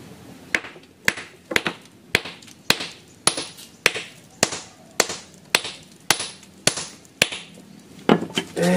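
Hammer striking a stone to break off an attached piece, about fifteen sharp, loud impacts at a steady, roughly half-second pace, each with a short ringing decay.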